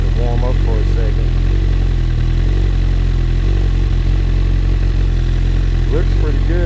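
Honda CB1000R with a new slip-on exhaust idles steadily and loud up close, a constant deep thrum with a slight clatter, while people talk briefly over it.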